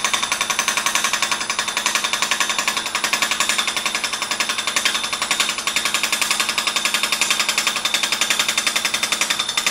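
A lathe tool scrapes wood during off-center turning, giving a loud, rapid, evenly pulsing chatter as the offset workpiece knocks against the blade on every revolution, continuous and close.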